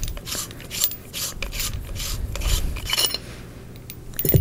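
The threaded parts of a metal lightsaber hilt are twisted apart by hand, giving repeated close, scratchy rasping and rubbing strokes in an uneven rhythm.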